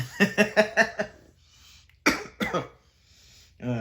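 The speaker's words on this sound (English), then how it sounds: "Don't cough the whole day, start filming, start coughing." A person coughing indoors, a rapid burst of five harsh coughs, then a pause and two more coughs, close and loud, with a brief vocal sound at the end.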